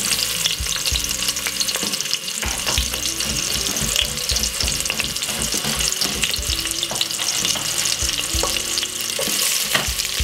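White onion and garlic frying in olive oil for Jamaican stir-fry cabbage, giving a loud, continuous close sizzle with busy crackle and occasional stirring clatter throughout.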